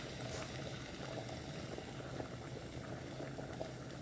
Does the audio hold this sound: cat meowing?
no